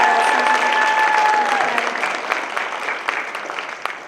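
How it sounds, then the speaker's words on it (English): A school middle school Knowledge Bowl audience applauds steadily, a dense wash of many hands at moderate distance, with a brief tone early on and the clapping gradually tapering. "Can we also give a round of applause for Patty Adams?"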